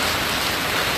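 Steady evening rain falls in a continuous, dense hiss, loud and close, with no voices or other sounds breaking through.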